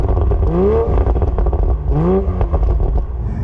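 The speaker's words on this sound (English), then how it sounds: "it's got that classic 6-cylinder sing to it" A six-cylinder car engine revs through its exhaust in two loud, close rising swells, each climbing smoothly in pitch before settling back over a steady rumble.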